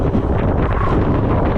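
Strong wind buffets the microphone in a steady, heavy roar, with low rumbling gusts throughout and no talking.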